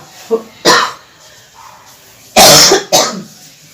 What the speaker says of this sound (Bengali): দেখছো তো কেমন কাশি হচ্ছে থেকে থেকেই না কাশি হয়ে যাচ্ছে